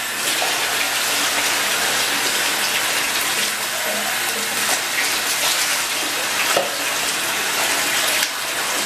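Warm water runs steadily from a tap while a dog is bathed, a continuous close gushing splash that fills the whole stretch with no break.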